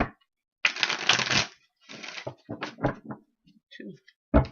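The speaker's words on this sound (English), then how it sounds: "Okay, two more shuffles." Tarot cards riffle and shuffle in a few quick bursts close by, with brief pauses between the crisp flurries.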